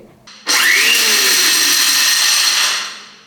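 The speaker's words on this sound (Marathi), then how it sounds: "तर आता हे मिक्सरमधून बारीक करून घ्यायचेत" Peeled roasted peanuts are ground in an electric mixer grinder: a loud, steady whirring roar kicks in abruptly, holds for a couple of seconds, then starts to wind down near the end, with no talking.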